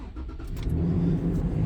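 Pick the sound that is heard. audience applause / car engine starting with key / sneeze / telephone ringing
car engine starting with key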